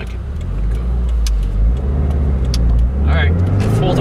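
A tuned 2015 Subaru WRX with a Stage 1 map pulls at full throttle on a road, its engine a steady low droning roar with rising tone, heard from inside the car with a voice speaking over it.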